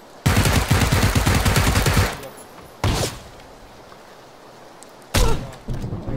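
Loud bursts of gunfire in the battle royale game PUBG: a sustained rapid volley for about two seconds, then two shorter bursts separated by quieter stretches.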